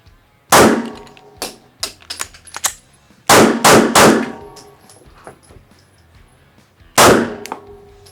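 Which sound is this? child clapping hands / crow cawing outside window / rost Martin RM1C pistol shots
rost Martin RM1C pistol shots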